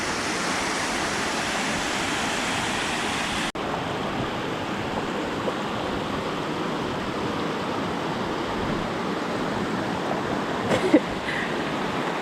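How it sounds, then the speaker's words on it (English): A waterfall along the Franconia Ridge trail in New Hampshire roars as a steady, dense, close rush of falling water, unbroken for the whole stretch apart from a brief knock and faint voices near the end. "We already made it to our first waterfall."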